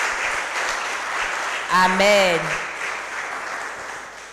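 Steady crowd applause rises from a church-style gathering of Christian doctors, with a single voice calling out briefly midway above the clapping before it settles back to a dense, even patter.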